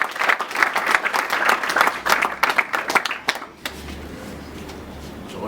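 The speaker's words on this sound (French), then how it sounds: "je vous demande de l'applaudir" Applause breaks out at a party meeting for the installation of a new office, lively clapping from a crowd that tapers off into low room murmur after a few seconds.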